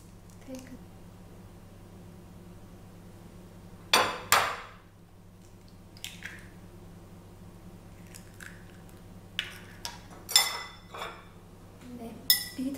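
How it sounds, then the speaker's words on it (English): An egg is beaten in a bowl for a steamed-egg custard, with several sharp clinks of utensil against the bowl in short bursts, moderately close, over a low steady hum and no speech. "then beat this egg."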